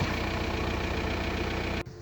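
A VW T4 van engine idles steadily while warming up, a close, even mechanical drone that cuts off abruptly near the end, with no voices.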